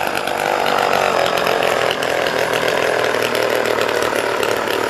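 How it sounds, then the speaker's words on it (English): A chainsaw runs steadily and loudly the whole time, its engine drone holding at a constant high pitch with a brief dip near the two-second mark. "Keep running, chainsaw."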